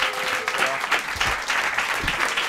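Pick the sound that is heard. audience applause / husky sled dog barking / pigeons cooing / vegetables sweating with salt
audience applause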